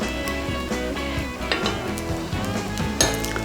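Ghee sizzles in a hot pan as a poli flatbread cooks, a steady close frying hiss with occasional utensil clinks over soft background music.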